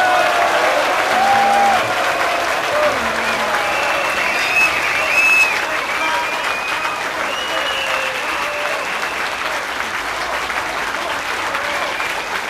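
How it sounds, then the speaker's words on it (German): A large outdoor crowd at a 2013 Hamburg political demonstration applauds loudly and continuously, with whistles and shouts scattered through the sustained clapping. "Der Dank und der Applaus gilt Ihnen allen, meine Damen und Herren."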